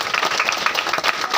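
A hall audience claps together in a steady, even patter for a short moment at a community program, with no voices over the applause.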